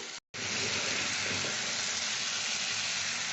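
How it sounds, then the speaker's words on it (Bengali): Cauliflower florets sizzle steadily as they sauté in a pan for an egg and cauliflower curry, a dense, close hiss that runs on without a break after a very brief gap at the start. "এরপরে আমি কষে এই কপিগুলো দিয়ে দেবো"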